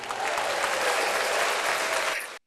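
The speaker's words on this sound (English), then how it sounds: "give it a round of applause." Dense applause from a live studio audience during an NBA draft-day show, steady and loud for about two and a half seconds before cutting off abruptly.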